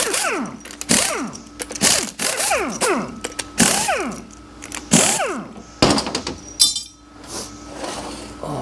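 A ratchet works a pump bolt loose on a GM 4L60E transmission from a 2008 GM vehicle, giving a close, repeated rhythm of rising clicking swings broken by metallic clunks, followed by a short spin-down rattle.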